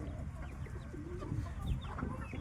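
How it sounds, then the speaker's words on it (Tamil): Free-range chickens clucking on a natural-rearing poultry farm, several birds murmuring and clucking softly over low background rumble, moderately near. "நம்ம கோழி பண்ணையில் கோழி எப்படி இயற்கை முறையில் வளர்க்குறன்றது தான்."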